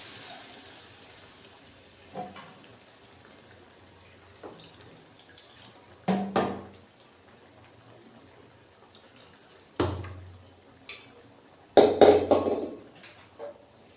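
Boiled lentils (dal) added to a pot of bottle gourd cooking with tomato, green chilli, salt, turmeric and cumin, heard as a few soft, wet plops and scrapes spaced apart in an otherwise quiet kitchen.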